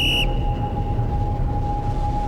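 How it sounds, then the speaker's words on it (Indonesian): In an animated mystery scene on a mountain climb, a thin, steady whistle tone hangs in the air behind low rumbling ambience, faint and distant-sounding, after a brief brighter tone cuts off at the start. "Barusan kalian dengar suara peluit juga?"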